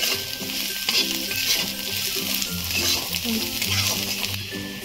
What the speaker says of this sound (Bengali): মশলা মোটামুটি ভাজা হয়ে গেছে